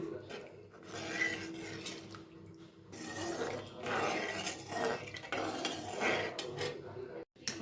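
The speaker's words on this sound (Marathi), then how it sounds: "आता आपण परतून हलवत राहूया" Scraping and stirring of gram-flour pithla in a pan, uneven rasping strokes with soft clinks of metal, continuing for several seconds before a brief pause near the end.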